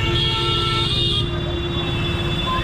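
Dense traffic jam on the road outside the Jagannath temple in Digha, with a car horn honking steadily over a constant low rumble of idling and crawling vehicles.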